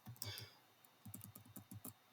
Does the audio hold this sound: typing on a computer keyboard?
yes